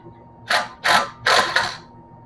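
Impact wrench loosening a bolt on a Stutenroth impact mill, three sharp rattling bursts in quick succession, the last one longer and doubled, close and fairly loud against a quiet background.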